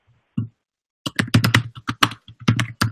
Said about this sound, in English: Paul, I think I hear you typing in the background, so you may have unmuted yourself